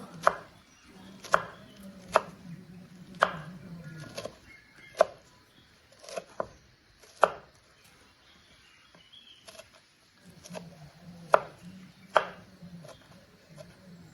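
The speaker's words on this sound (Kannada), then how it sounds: "ಇದೇ ತರಹ ಎಲ್ಲ ಸೊಪ್ಪುಗಳನ್ನು ಕ್ಲೀನಾಗಿ ಕಟ್ ಮಾಡ್ಕೊಂಡಿದ್ದೇನೆ" A knife chops mixed leafy greens on a board: about a dozen crisp, irregular chops, near and fairly quiet, with a faint background hum and no talking.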